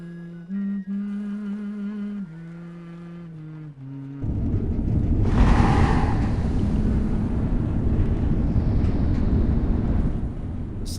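A deep, rumbling underwater roar rises and holds from submarines in Civilization IV, after a stretch of tonal game music, loud and continuous with a broad hissing swell.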